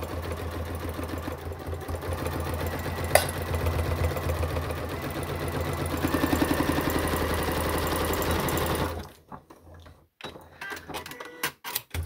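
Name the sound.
sewing machine stitching a handbag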